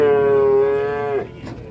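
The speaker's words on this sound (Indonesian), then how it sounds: "Kedatangan sapi-sapi lucu." A loose, agitated cow lets out one long, loud moo that drops in pitch and breaks off, with faint background noise afterward.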